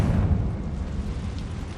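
A Confringo blasting spell explodes in the video game Hogwarts Legacy, a heavy low boom that rolls and fades over under two seconds.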